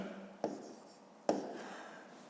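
Two brief scratchy handwriting strokes on paper during a fifth-grade math exercise, close and quiet, with a faint roomy background and no speech.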